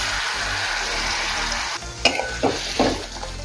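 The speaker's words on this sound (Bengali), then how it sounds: "আবারও কিছুক্ষণ সময় নিয়ে মশলা ভালোভাবে কষিয়ে নেব।" Spice masala sizzles and fries in a pan as a broad steady hiss, with a few sharp scraping strokes of stirring near the end.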